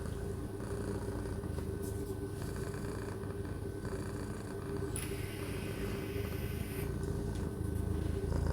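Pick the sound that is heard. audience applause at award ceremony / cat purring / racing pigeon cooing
cat purring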